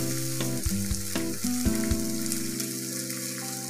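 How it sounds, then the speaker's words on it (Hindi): Cumin seeds and onion sizzle and crackle in a hot kadhai, with steady frying hiss and scattered pops and clinks of stirring, close and alone. "कढ़ाई गर्म होने के बाद उसमें मैं ये एक चम्मच जीरा डाल दूंगी, साथ में ये प्याज भी डाल दूंगी"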